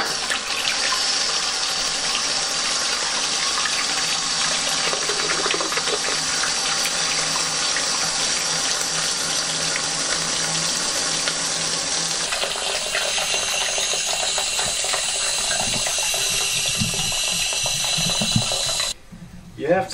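Water rushes steadily into a toilet cistern through a newly fitted ball float valve, a loud continuous gushing fill that changes tone partway through and cuts off abruptly near the end.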